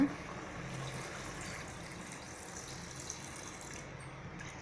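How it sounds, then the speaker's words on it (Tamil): Water pours gently into a pressure cooker holding intestine curry (kudal kulambu), a soft, steady low trickle and splash heard faintly and close, without talk. "இந்த ஸ்டேஜில் நம்ம தண்ணி ஊற்றிக்கலாம் கொஞ்சமாக, வேகிறதுக்காக"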